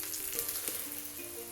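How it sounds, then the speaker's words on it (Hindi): Methi paratha frying in ghee on a hot pan gives a steady, close sizzle that crackles continuously throughout, with no voices. "घी लगा देंगे हम इसके ऊपर और इसको हम अच्छी तरह पका लेंगे"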